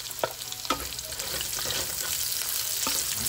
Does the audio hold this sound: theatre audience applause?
no